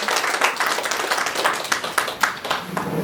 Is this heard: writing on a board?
no